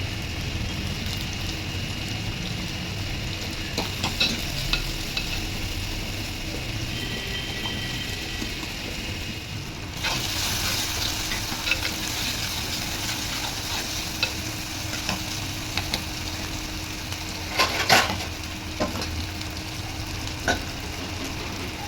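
Tomatoes frying and being stirred in a clay pot, a steady close sizzle throughout with scraping stir strokes and occasional sharper clinks, loudest around the middle and near the end, with no talking.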